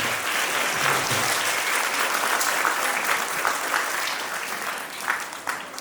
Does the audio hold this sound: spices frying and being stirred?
no